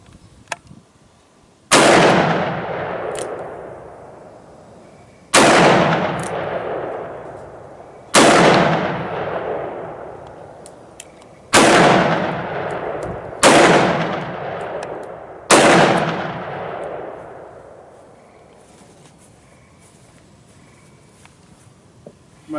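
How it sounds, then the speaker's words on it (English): Korth Combat Mongoose revolver firing Federal 125 grain jacketed hollow points outdoors, six loud, sharp shots spaced a few seconds apart, each followed by a long echoing decay, then quiet. "My first 18 shots, this is probably about the best I've ever shot a revolver."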